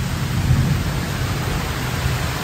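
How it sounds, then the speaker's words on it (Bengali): A constant heavy roar of rain with a low rumble of thunder underneath, heard from a balcony, loud and unbroken throughout. "দেখতে পাচ্ছ কিরকম ঝড় বৃষ্টি তুফান চলছে চারিদিকে"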